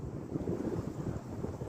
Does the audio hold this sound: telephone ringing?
no